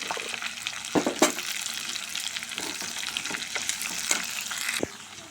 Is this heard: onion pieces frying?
yes